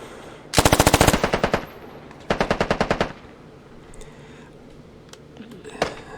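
Two rapid bursts of light machine gun fire in a shooting video game, loud and rhythmic, followed by quieter ambient game noise and a single distant shot.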